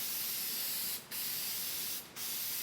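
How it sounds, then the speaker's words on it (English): One-Shot case lube is sprayed onto fired rifle brass cases in a long continuous aerosol hiss, broken by two brief pauses as the can is repositioned, close and steady, with no talking. "You're just trying to spray some lube on these cases."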